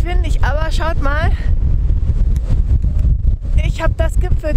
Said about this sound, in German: Megamäßig windig